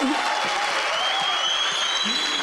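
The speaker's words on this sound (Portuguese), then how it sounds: "aplauda aplauda Jesus!" A church congregation applauds Jesus during a worship service, dense sustained clapping that fills the room evenly, with a faint tonal hum and a brief voice underneath.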